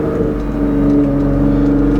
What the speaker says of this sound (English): And that damn turbo noise.